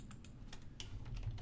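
Quick, fairly steady typing on a computer keyboard while working in PowerApps, a dense run of soft key clicks over a low background hum, with no voices.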